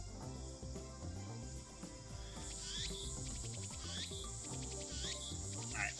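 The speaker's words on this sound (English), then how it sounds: "Why did they have to make the cicada noises so aggressive?" Shrill, insistent cicada drone from the Steins;Gate video game, a continuous buzzing chorus layered over low background game music, with repeated rasping pulses rising and falling.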